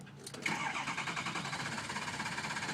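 A 6.0 diesel engine cranks without catching, the starter churning in a fast, even pulsing rhythm that holds steady and close after a brief initial click.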